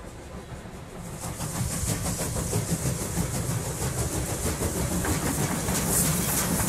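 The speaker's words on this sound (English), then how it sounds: "The train meanders through fertile southern Russia to Central Asia." Passenger train traveling through southern Russia toward Central Asia, a continuous loud rolling rumble with rhythmic clickety-clack of wheels over rail joints, heard from inside the carriage.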